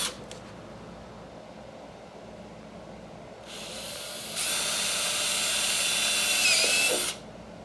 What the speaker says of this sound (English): In this case, double drilling was safer.